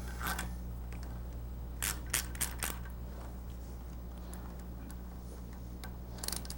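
Metal bolts for a chrome cover are picked through and sorted by hand. Scattered small clicks and clinks ring out close by in a few short clusters over a quiet, humming background.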